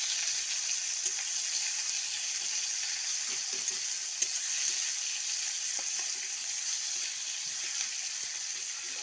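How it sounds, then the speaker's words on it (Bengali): Chopped onion, tomato, garlic and chilli frying in a pan, a steady loud hiss of sizzling oil throughout with occasional faint stirring taps, close and continuous. "এখন এটাকে একটু ভাজা করে নেব।"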